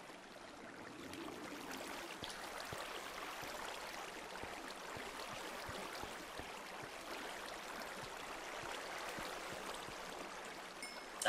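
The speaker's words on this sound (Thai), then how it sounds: "น้ำตกมาจากไอ้นี่เลยนี่หว่า" A steady broadband rush of flowing water from a Minecraft waterfall runs throughout at moderate level, with faint clicks scattered on top and no talking.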